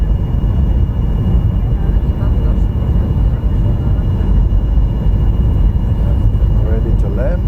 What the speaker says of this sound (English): now we're about to land in Helsinki Airport.